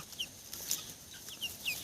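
Faint, soft clucks from a few chickens come in short, scattered bursts against quiet background noise.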